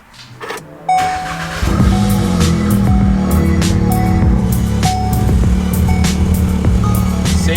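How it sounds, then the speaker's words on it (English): A Volkswagen Golf R cranks briefly and its engine fires up, then settles into a steady idle with a low rumble, close and loud, alone without talk. "start the car up"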